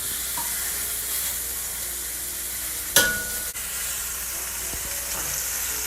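Short ribs sear in a hot pan, giving a continuous loud sizzle and crackle with one sharp clatter partway through and no talking.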